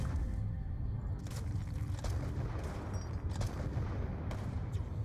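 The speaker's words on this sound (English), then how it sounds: "Yes, I will shoot Harper with the pistol and put him out of his misery" Pistol shots in a Wii U video game, a handful of sharp cracks spaced about a second apart over a dense, rumbling battle background.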